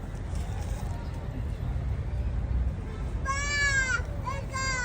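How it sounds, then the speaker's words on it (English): Goats bleat several times near the end over a steady low rumble of wind or background noise, with faint voices earlier. "Got a few goats here."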